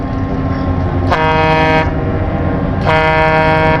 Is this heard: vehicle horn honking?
yes